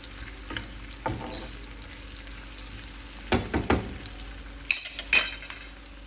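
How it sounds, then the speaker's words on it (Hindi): Onions browning for a Pakistani meal sizzle steadily in a hot pan, broken by a few louder stirring scrapes and light clinks of a utensil against the pan. "मैंने काफ़ी सारा प्याज ब्राउन करने के लिए रख दिया है"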